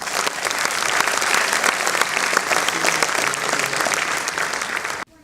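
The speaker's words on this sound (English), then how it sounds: "Let's hear a round of applause" Full, dense audience applause at a 25th anniversary celebration for Tej-Prasarini runs steadily, then cuts off abruptly near the end.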